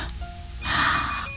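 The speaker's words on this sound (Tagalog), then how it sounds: "Ang alarm." An alarm clock rings loud and close, starting after a quiet moment and buzzing in a bright, steady burst for most of the second before dropping away.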